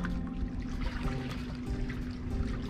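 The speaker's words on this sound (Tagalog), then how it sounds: "papasok na po yung tubig." Incoming high tide water flowing and pouring along the shore, a steady continuous rush and trickle heard up close with no voices.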